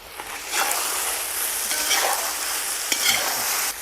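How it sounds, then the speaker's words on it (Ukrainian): Loud, steady sizzling of pork and vermicelli frying in a pan, with a few scraping stirs and clinks on top, no talking. "м'ясо смажиться, вермішель смажиться."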